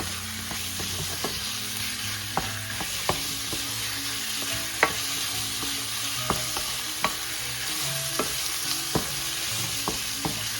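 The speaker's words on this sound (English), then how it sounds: "Saute this for a bit." Filipino chop suey vegetables sautéing in a pan give a steady sizzle, broken by repeated light clinks and scrapes of a utensil stirring, with no voices.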